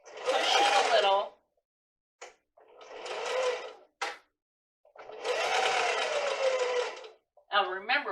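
A sewing machine stitching fabric runs in three long bursts of whirring motor whine that rise and fall in pitch, separated by pauses and brief clicks.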